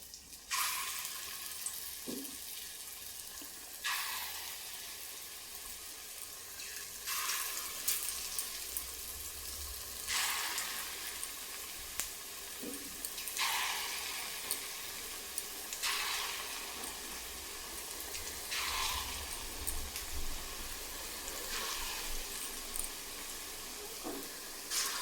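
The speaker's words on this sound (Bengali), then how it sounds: "আর আমি বড়াগুলো একদম বেশি বড় না, ছোট ছোট করে ভাজবো।" Small masoor lentil fritters fry in hot oil, a soft, continuous sizzle swelling into brief louder bursts roughly every few seconds as more batter goes in.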